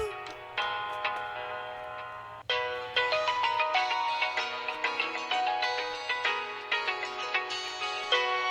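A mobile phone ringtone plays a bright, repeating melodic pattern of quick chiming notes, starting quietly and then louder and steady, heard alone without voices.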